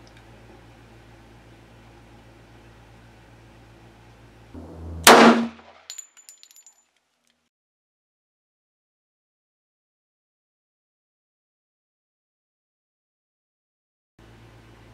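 A single sharp, loud gunshot from a .45 ACP pistol firing Federal HST 230 grain standard pressure rounds at an outdoor range cracks against a faint fan-like hum, then a brief metallic clink follows and near silence.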